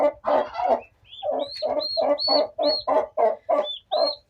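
Loud, rapid bird calls repeat in a steady rhythm, a series of close gobbling bursts from poultry with short gaps between them.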